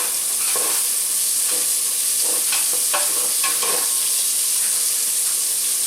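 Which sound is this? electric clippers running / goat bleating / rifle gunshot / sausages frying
sausages frying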